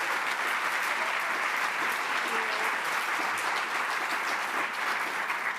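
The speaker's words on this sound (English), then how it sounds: "Let's give them another round of applause for a great event." An audience at a live conversation event at the Bush Center claps steadily and loudly from start to finish in a dense, sustained round of applause.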